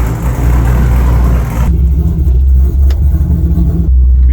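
An LS3-swapped 1969 Camaro rumbles loudly and close, with a deep, heavy engine note holding strong, then easing to a lower, steady drone while driving.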